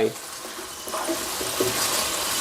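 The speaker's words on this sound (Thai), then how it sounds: "ผัดคลุกเคล้าให้เข้ากันครับ ผัดให้น้ำแห้งได้เลยนะครับ" Pumpkin and minced pork stir-frying on high heat with basil: a continuous wet sizzle with occasional scraping and stirring sounds from the pan.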